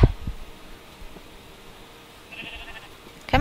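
A short Minecraft sheep bleat rises near the end of a quiet game scene, brief and moderately loud after a soft thump at the start.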